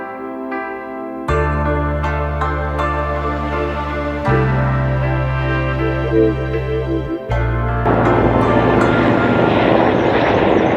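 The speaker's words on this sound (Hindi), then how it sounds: "अभी हेलीकॉप्टर देखना, वो अभी वहाँ जा रहा है।" Helicopter flying over a mountain valley near farm fields, a steady droning rotor and engine hum that persists throughout, loud and continuous with a slight swell toward the end.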